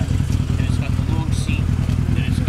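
An MV Agusta motorcycle with a gear-driven engine and non-stock exhaust runs close by, a steady mechanical drone with rapid pulsing clatter and gear whine throughout, with people talking over it.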